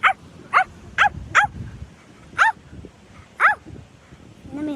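A dog barks repeatedly in short, sharp bursts at irregular intervals, fairly close, against quiet outdoor background noise.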